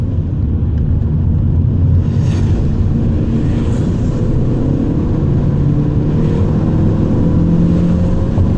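A 1.6 Opel Astra running on petrol hums steadily from inside the cabin as it accelerates, a dense, constant engine and road drone with only slight shifts in pitch as gears change.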